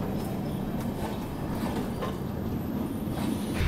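A passenger express train pulls out of Vijayawada junction after a locomotive change, with a steady, loud rumble of wheels and rail noise and faint rhythmic clatter throughout.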